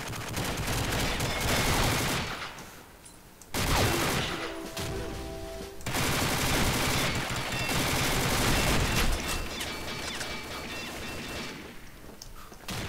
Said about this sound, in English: just exactly how fast the CZ Scorpion fires